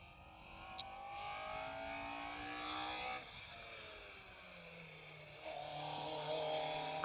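Rally car on a Mull Rally stage on the Isle of Mull, a distant engine note that rises and falls as it passes, with gear changes and a steady roar of running over several seconds in open outdoor air.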